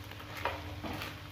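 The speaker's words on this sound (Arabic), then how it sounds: "بعد ما ضفت هاد المعدنوس ديالي نحرك" Parsley stirred into a pastilla filling in a pan, producing a faint, quiet scrape and light sizzle with a couple of short stirring strokes.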